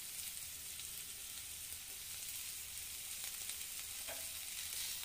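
Finely cut green chillies fry in a small amount of oil for restaurant-style mushroom manchurian, giving a steady, quiet sizzle that carries on alone with faint stirring.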